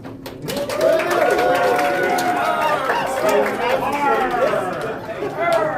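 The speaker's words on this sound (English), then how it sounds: "Let's cheer wildly for that" An audience at a Certamen competition semifinal cheers wildly for a team, a dense mass of whooping and chattering voices holding loud for several seconds.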